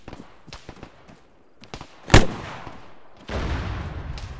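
Gunfire rings out in a military infantry video game, with faint scattered pops, one sharp loud blast near the middle and then a sustained rumbling burst of fire to the end.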